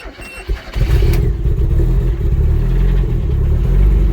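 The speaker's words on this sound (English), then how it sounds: "There you go, fired straight up when it's cold." A Cosworth-engined Escort RS Turbo cranks briefly and fires up from cold, settling at once into a loud, deep, steady idle close to the car.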